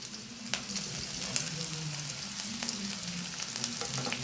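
Chopped ginger, green chili and onion sizzle in a pan, a steady close crackle with scattered sharp pops and soft stirring scrapes throughout.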